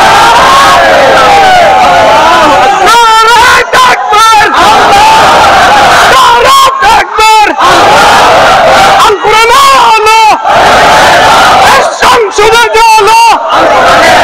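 A large outdoor rally crowd shouts the takbir in loud, repeated bursts of many voices, each surge rising together and then dropping off before the next.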